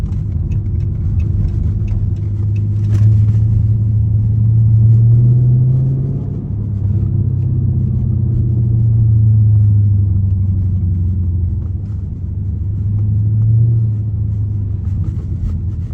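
A Dodge Charger SRT8 rolls across smooth ground behind a Walmart, its engine a steady low rumble that swells and eases slightly, heard from inside with no talking.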